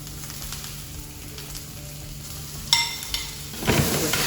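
Peppers frying in a hot pan, a steady close sizzle with a sharp metallic clank near the middle and a burst of louder spattering toward the end, no voices.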